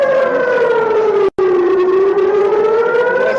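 Air raid siren near the Israel–Gaza border, a loud wailing civil-defense tone that slides slowly in pitch and cuts out for a split second before carrying on.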